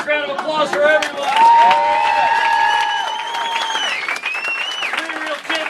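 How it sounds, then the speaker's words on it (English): Crowd applause and cheering for pie eating contest finishers, with loud voices and whoops riding over the clapping as an announcer talks throughout. "Nice round of applause for everyone!"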